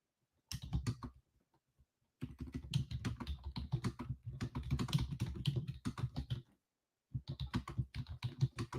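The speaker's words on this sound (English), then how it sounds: "I'm typing in our group." Rapid clicking keystrokes on a computer keyboard come in three bursts separated by short silences, close and crisp, with no voices.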